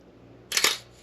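An old film camera's twin-curtain shutter firing at 1/15 second, a close, crisp double snap with the two blades audibly separated by a brief gap, alone over low background hum.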